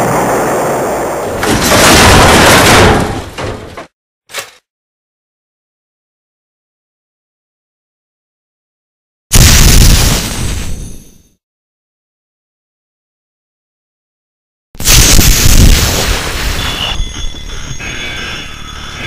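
Three heavy booming bursts of a spaceship impact explosion, each loud and broadband with a rumbling tail, separated by stretches of dead silence, the last one lingering with crackling debris-like noise.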